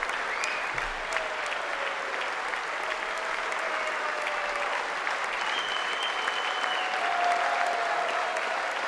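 Members of Congress applaud the president, dense sustained clapping from a large chamber crowd with scattered whoops, moderately loud and unbroken throughout.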